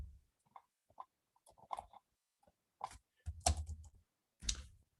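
Scattered keystrokes on a computer keyboard, a few sparse clicks followed by denser bursts of taps, close and fairly quiet, with no voices.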